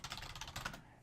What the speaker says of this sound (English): you type in affiliate marketing